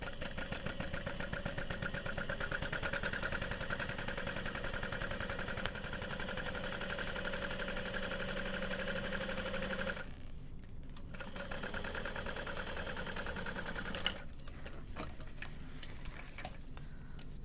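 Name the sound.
sewing machine top stitching a bowler bag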